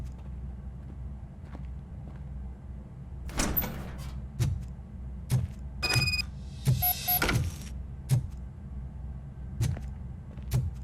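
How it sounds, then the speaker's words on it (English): A door opens in the RoboCop video game with bursts of mechanical whirring and hissing. Heavy, regular robotic thuds of footsteps pace through, all close and fairly quiet, with no speech. "Now let me get that door open for you."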